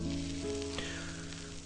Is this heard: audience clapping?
no